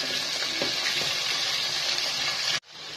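Chicken sears in a pan over high heat with a steady, loud sizzle and crackle throughout, cutting off abruptly near the end.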